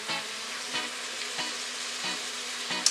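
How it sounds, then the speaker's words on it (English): Brown stewed fish sauce in an Instant Pot is stirred in about five even, rhythmic strokes, each a soft scrape over a quiet, steady sizzle, with no one talking. "Give that a stir."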